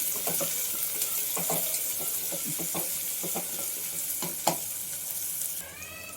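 Chillies, including thick bajji chillies, frying in a pan for beetroot palya, with a steady sizzle and repeated clinks and scrapes of a spoon stirring, no voices.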